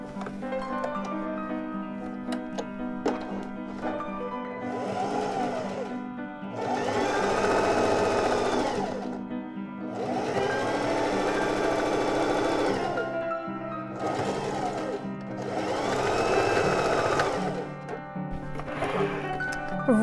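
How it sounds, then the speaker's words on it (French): A home sewing machine hems the leg of flannel pyjama pants, running in several steady whirring bursts of a few seconds each, separated by short pauses with faint mechanical ticking, close and without talk. "fait le premier bord avec la machine à coudre"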